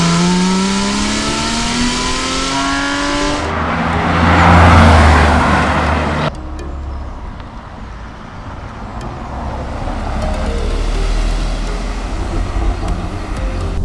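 A Porsche 911 of the 991 generation, with a 3.8-litre 400 bhp engine and PDK gearbox, drives with a loud, continuous engine roar that swells briefly, then settles into a steady drone. No one speaks.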